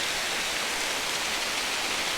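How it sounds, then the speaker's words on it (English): The Holden Clough waterfall flows in a dense, steady broadband rush of falling water, loud and continuous, with no voices. "at the side of the waterfall"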